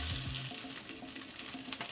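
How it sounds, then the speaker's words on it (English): Meat sears skin side down in a hot pan, giving a dense, steady sizzle and crackle that runs continuously and close without any voices. "You know your pan's at the right heat when it sizzles like that."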